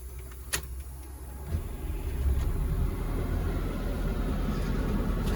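The engine of a 1989 MCI 102C3 coach cranks and catches, then settles into a deep, loud diesel rumble that holds steady and close, preceded by a brief click.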